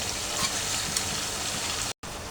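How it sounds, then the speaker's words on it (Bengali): Steady sizzling of pickle with vinegar being stir-fried in a pan, a continuous moderately loud frying hiss with faint stirring scrapes and no voices. "এখন এটাকে ভালো করে আরেকটু কষাই নিয়ে তারপর আমি চিনিটা অ্যাড করব।"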